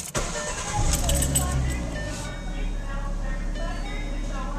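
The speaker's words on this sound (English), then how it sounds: "Why don't we turn the car on and check it out?" A 2011 Ford Mustang engine starts up after a sharp click, rising into a steady idle rumble, with chimes and someone talking over it.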